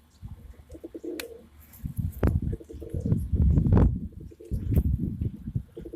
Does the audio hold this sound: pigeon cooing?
yes